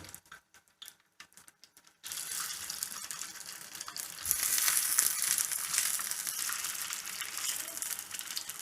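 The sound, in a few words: reshmi kebabs frying in oil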